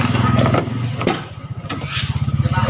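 A 1997 Suzuki Carry van engine runs just after starting, its close, loud, steady throbbing idle pulsing evenly with a slight mechanical rattle and no clear talk over it.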